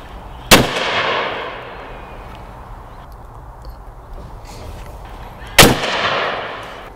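A Beretta Ultraleggero shotgun fires 28 gram cartridges at a going-away target: two sharp, loud outdoor reports about five seconds apart, each with a ringing decay.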